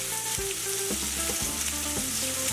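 Bacon crisping in leftover sausage grease in a pan, a loud, steady sizzle that runs the whole time with occasional soft knocks and scrapes of stirring, no voices.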